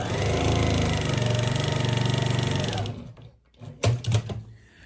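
A sewing machine stitches quilt fabric pieces made from mask scraps, running steadily and loud for about three seconds before stopping, followed by a few clunks and fabric handling noises.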